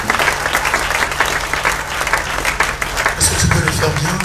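A church congregation at a Sunday service applauds in a steady, dense wash of clapping that swells louder toward the end, with a few voices mixed in.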